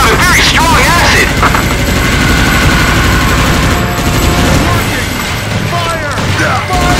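Heavy gunfire in Earth Defence Force 2017 while fighting acid-spitting giant bugs, a loud continuous fusillade of automatic fire and booms, with shouted game voices over the din.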